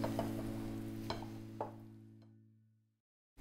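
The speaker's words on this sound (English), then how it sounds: "So I'm gonna stir this together" A spoon stirs corn spoon bread batter with butter in a bowl, giving a few soft scrapes and taps over a steady low hum, then everything falls silent.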